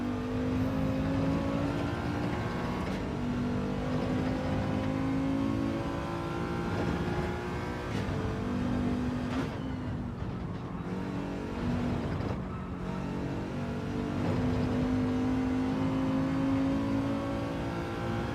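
A McLaren racing car accelerates in Gran Turismo 7, its engine a steady, loud, droning whine held over long stretches, with brief dips and shifts as it gathers speed down a straight.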